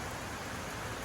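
Light, gentle rain starting to fall on farmland near cattle sheds, a short, even hiss of drizzle with no voices or other sounds standing out.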